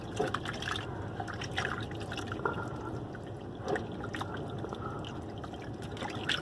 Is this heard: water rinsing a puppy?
yes